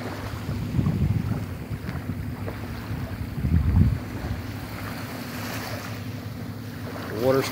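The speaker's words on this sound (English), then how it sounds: "There's a lot of boats trolling this morning." On calm, flat, clear water at a state park in the morning, boats troll in the distance under steady wind and low engine rumble, with soft lapping water and no talk.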